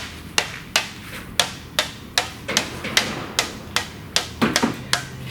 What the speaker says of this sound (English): hitting it on a mallet with a bag of shot